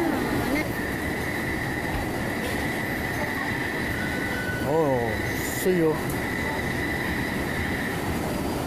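A Manila MRT rail train rumbles steadily nearby with a whining tone and brief wheel squeals, while a voice speaks briefly over the noise.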